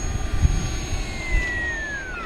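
An FMS 1700mm Corsair V3 RC warbird on a 6S battery flies past with a steady electric whine, its pitch sliding downward as it passes, over light wind rumble outdoors.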